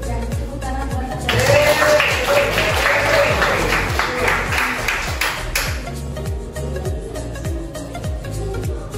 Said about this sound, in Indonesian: Dan tepuk tangan buat kita.